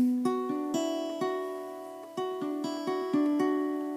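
Electric guitar playing the first notes of the lead part, a run of clean plucked notes with sustained, ringing harmonics and slight echo, played alone at a steady, moderate pace.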